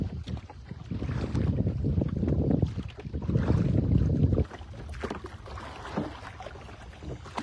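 A rowboat is rowed on the Potomac River in strong wind. Broad wind and water rush fill the recording, with some knocks and splashes that may come from the oars, loud at first and then easing off.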